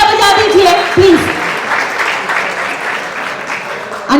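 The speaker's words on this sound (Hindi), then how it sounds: "Guys, जोरदार तालियां बजा दीजिए, please." Audience applause fills a Realme 14T phone launch event, a steady spread of clapping that swells briefly near the start and end, with a voice speaking over it at moments.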